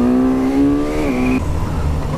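Suzuki GSX-S1000 motorcycle engine blipping on a downshift, a loud, close revving tone that sweeps upward then drops sharply, followed by a lower, rougher engine note.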